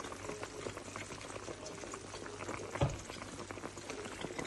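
Gombo sauce with fish, meat and palm oil bubbles and simmers in a pot, a soft steady sizzle with a brief clunk partway through.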